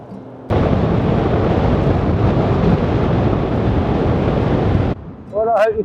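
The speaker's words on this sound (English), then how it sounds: "It's extremely windy." Strong wind on the Pembrokeshire coast at Broad Haven roars against the microphone in a loud, continuous rush for several seconds, then drops as a voice briefly starts.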